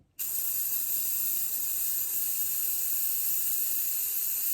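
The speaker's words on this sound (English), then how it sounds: "Now I'm just going to continue to spray the different colors." A steady, continuous aerosol hiss of spray paint for hydro dipping that starts abruptly and holds at an even level throughout, close to the microphone.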